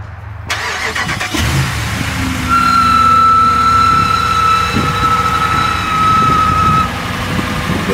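A Hemi engine runs after a manifold bolt repair, free of any ticking, with a loud, steady idle starting abruptly and a whining tone holding above the even drone.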